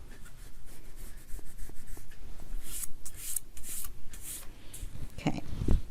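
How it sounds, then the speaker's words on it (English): A paper envelope being torn up close by, with rough rustling and ripping that runs throughout and a few sharper tears toward the end, no speech. "Let's just rip up the envelope."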